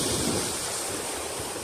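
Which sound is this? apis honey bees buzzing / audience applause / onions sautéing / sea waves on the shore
sea waves on the shore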